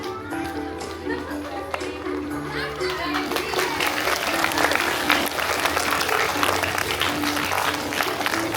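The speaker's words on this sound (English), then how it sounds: "clap loudly for Garima ma'am" Applause from a school audience at a Founders Day celebration, rising into dense sustained clapping after a few seconds, with children's voices and crowd chatter mixed in and an announcer speaking over it.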